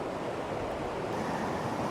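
A remote Wisconsin river waterfall pours over rocks at a bend, a steady broadband rush of water with constant roar and no voices.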